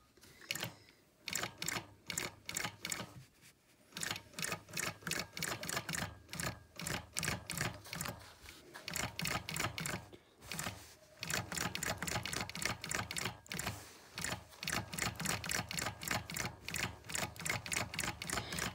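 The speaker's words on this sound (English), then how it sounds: "So there we go, and we're going to go across." Long arm quilting machine basting a quilt, a rapid mechanical needle clatter running in bursts with brief pauses between passes, steady and close.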